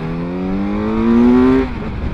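A 2017 Kawasaki Z900 motorcycle engine revs hard as the throttle is flicked, its pitch climbing steadily for over a second before dropping off abruptly; loud, close and without speech.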